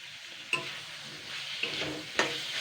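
Garlic and ginger paste fries in a pan under a soft, constant sizzle, with three distinct scrapes or taps of a stirring spoon spaced a second or so apart, heard up close with no voices.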